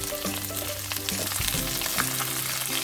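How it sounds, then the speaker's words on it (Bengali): Cauliflower sizzles in hot oil in a pan with salt added, a steady crackling fry with a few soft stirring knocks and no voices. "এবার আমি ফুলকপিগুলো দিয়ে দেবো। একটু নুন দিয়ে দেবো"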